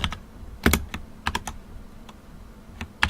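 Keys clatter on a computer keyboard as an SQL query is typed: sparse, crisp keystrokes arriving in small bursts with short pauses between them, close and fairly quiet.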